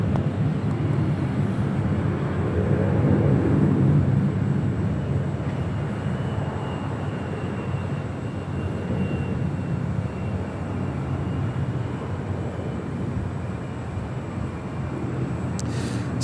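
An airliner taking off at Los Angeles International Airport, a sustained loud jet engine roar swelling early and then holding a steady rumble for the rest of the stretch, heard from nearby.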